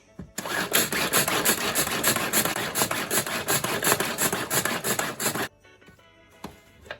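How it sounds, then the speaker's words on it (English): A manual pull-cord chopper spins through parsley, a dense, loud whirring rattle for about five seconds, then stopping abruptly with a brief clatter afterward. "Just cover that and give it a couple of pulls manually."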